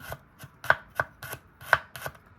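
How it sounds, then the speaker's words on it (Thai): Garlic is cut into thin slices with a knife for Thai roasted chili paste. Close, sharp knife taps land on the board about four times a second in a quick, steady run, with no voices. "เสี้ยนหั่นกระเทียม"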